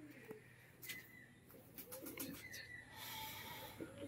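A pair of pigeons kept for sale coo softly, a few low rolling calls close by against a quiet background.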